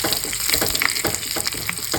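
Curry leaves crackle and sizzle in hot coconut oil with fenugreek and chopped shallots, a close, busy frying hiss with sharp pops throughout, for a mango fish curry.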